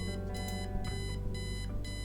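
Electronic alarm clock in the video game Kathy Rain beeping in repeated bright bursts of about a third of a second, loud and insistent over a steady background hum, with no talking.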